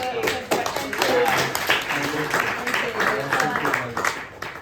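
An audience claps steadily for a few seconds, the applause mixed with some voices.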